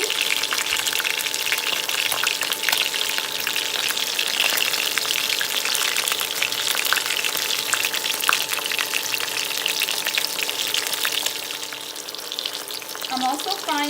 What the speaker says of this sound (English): I'm also frying some porgy.